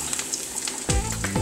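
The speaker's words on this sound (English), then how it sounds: "So now I'm just going to get one of them and drop them in this grease. Get that sizzle to how you want it." A cornmeal and pumpkin seed crusted tilapia fillet fries in hot grease with a close, steady sizzle and crackle, and a louder splash and hiss as the fish drops into the oil.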